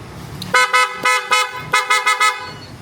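A Yamaha Nmax police motorcycle's loud, nasal frog horn honks in a quick series of short blasts, about eight toots in an uneven rhythm, close and unaccompanied.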